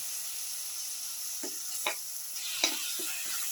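A tomato casserole sizzles softly in a pan as it is mixed with vinegar, a steady hiss broken by a handful of brief spoon scrapes and taps.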